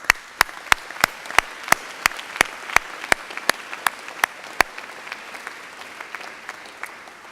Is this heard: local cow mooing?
no